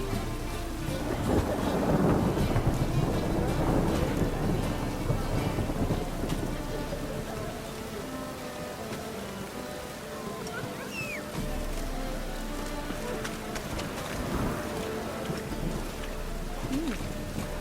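Steady rain falls with low, distant rolls of thunder in a stormy scene from the video game The Witcher 3, a continuous soft wash of sound throughout.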